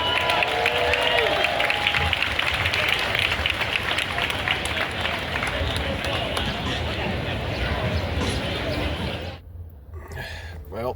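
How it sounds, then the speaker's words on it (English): Half marathon crowd applauding and cheering for the hand cycling division, a dense roar of clapping and voices that holds steady and loud, then thins abruptly near the end. "we are going to invite all of you to give a loud round of applause for our tips of the spear right here, our hand cycling division"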